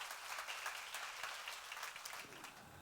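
A church congregation claps together during a sermon, broad steady applause lasting the whole stretch and fading slightly toward the end.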